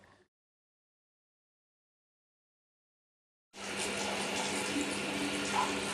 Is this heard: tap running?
yes